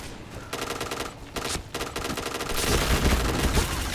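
Bursts of rapid gunfire during a video game shooter match in a room where shotguns are used. Clustered automatic shots come close and loud, then give way to a sustained, denser barrage near the end.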